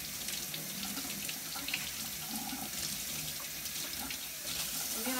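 Tap water runs steadily into a sink while an item is rinsed under the faucet, a continuous close splashing hiss with no talk.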